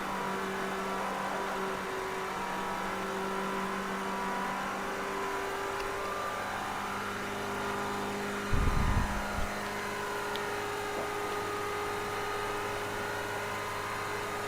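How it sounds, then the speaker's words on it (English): A 1971 Ford Escort RS1600 in the Project Cars 2 racing game climbs uphill, its engine holding a steady, sustained high-rev drone with layered harmonic tones, broken by one brief low thump midway. "Just letting the engine breathe now as we go uphill."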